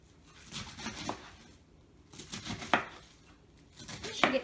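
A knife cuts through a head of cabbage on a cutting board, giving a few crisp crunching strokes spaced about a second apart, close and moderately loud, with no talking.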